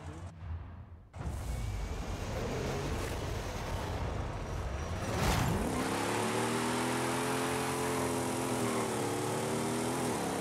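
A Plymouth Barracuda in Forza Horizon revs hard at the launch, a steady roaring engine note that climbs after a short pause and then settles into a sustained, loud drone with rising harmonics.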